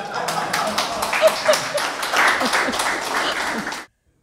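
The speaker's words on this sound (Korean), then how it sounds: "박수를 치네요." A crowd claps and applauds steadily for several seconds before it cuts off abruptly.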